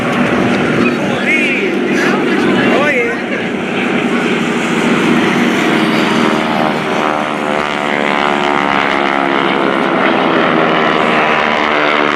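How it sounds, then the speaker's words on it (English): Propeller-driven GEICO Skytypers planes flying over a naval air station air expo produce a loud, continuous droning engine roar that holds steady and close throughout, with a public-address voice under the noise. "Follow the aircraft as they descend and converge over the same point to demonstrate an air-to-air intercept to engagement."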